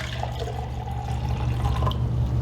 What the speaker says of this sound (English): so I'm going to take it out and pour it into my cup